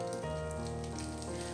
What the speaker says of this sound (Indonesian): Pokoknya kita goreng sematangnya saja.